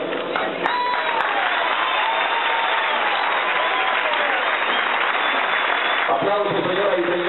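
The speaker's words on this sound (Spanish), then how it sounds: "Aplausos, señoras y señores" Audience at a mayor's swearing-in ceremony applauding after the oath, a continuous, fairly loud wash of clapping with crowd voices mixed in, thinning out near the end.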